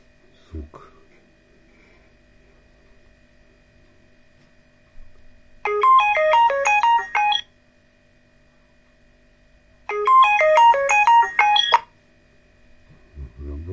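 An Android phone's ringtone plays a quick, bright melodic pattern in two bursts separated by silence, with faint handling noise around them.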